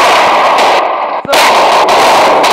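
Gunfire rattles in the Standoff multiplayer video game, a loud, dense burst of shots with a brief break midway before the firing resumes, close and continuous.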